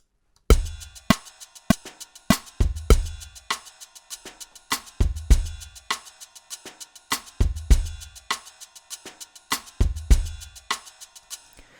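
Slow pop ballad drum loop at 100 BPM from a preset library, with a steady kick-and-snare pattern and cymbal wash repeating evenly and loud throughout, no voices.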